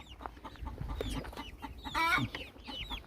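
Several small-breed chickens in a coop cluck and squawk nearby in scattered bursts just after rain stops, with one louder cackle in the middle over soft background noise.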